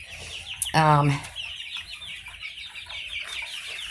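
Steady high chirping from a group of young chickens in a garage brooder, broken by one loud, harsh squawk near the start, close by with no talking.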